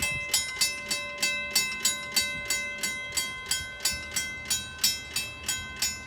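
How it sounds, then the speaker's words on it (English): A fast intermodal freight train with two lead locomotives and a DPU passes at speed, giving a rapid, evenly spaced series of sharp rhythmic clacks from wheels over rail joints, loud and close, with no talk. "that was a really fast intermodal train with 2 locomotives at the front and 1 DPU"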